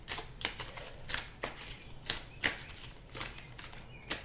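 Cards are shuffled close up in a series of quick riffling bursts, each a short crisp flutter, repeating about every half second.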